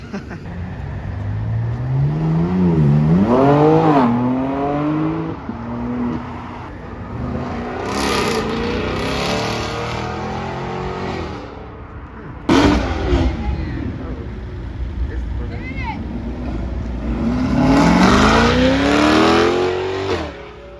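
A C8 Corvette driving hard through canyon roads, its engine revving up and down in repeated sweeping surges with gear shifts and loud passes, while people talk and exclaim nearby.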